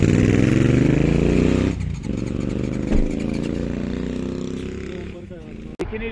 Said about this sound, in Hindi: ये खतरनाक बाइकर बहुत सारे आ गए यहाँ पे, देखिए।